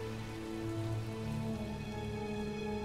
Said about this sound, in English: Nearly 17 feet of rain drench the Tongass every year.